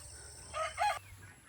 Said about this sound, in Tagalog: ang pinaka-main namin na mga alaga dito sa farm ay yung ating free-range chicken.